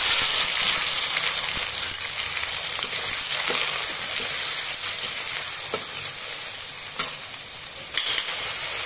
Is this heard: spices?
yes